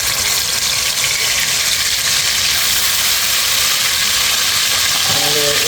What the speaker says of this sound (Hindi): अब हम इसमें 2 चम्मच अदरक लहसुन का पेस्ट ऐड कर रहे हैं